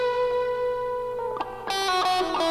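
Reggae guitar from a live recording, sent into reverb to simulate a live room, plays sustained chords and notes that ring out with a brighter strummed passage toward the end, loud and alone.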